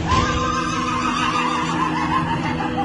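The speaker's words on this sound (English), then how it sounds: "This horse came home from a clinic, and this is how touchingly it greets all the other horses" A horse newly home from a clinic neighs loudly and continuously, greeting the other horses with a sustained, quavering whinny close by.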